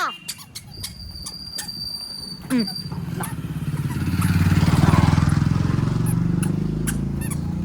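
A motor vehicle, likely a motorbike, draws closer on a village road, its engine hum building from faint to loud and steady over several seconds, with birds clucking and brief voices early on.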